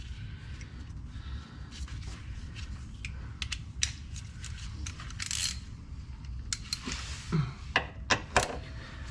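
Removing the lower control arm bolts on a Jeep Renegade during a lift install, with a ratchet giving scattered bursts of clicking and metallic clanks over a low steady hum in a garage.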